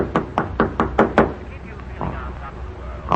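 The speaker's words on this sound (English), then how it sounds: "There's someone at the door." A series of six sharp knocks on a wooden door from an old radio drama, rapid and evenly spaced, followed by quieter room tone.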